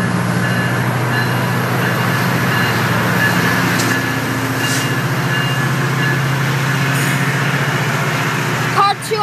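An Amtrak passenger train rolls steadily past up close at a trackside event on National Train Day, giving a continuous loud rumble and wheel clatter, with a faint brief beep near the end.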